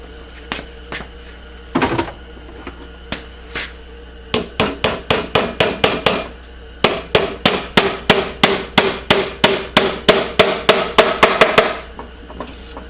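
Steady hammer blows on a nail during a tool caddy restoration, a few scattered taps at first, then two long runs of rapid, evenly spaced strikes, loud and close.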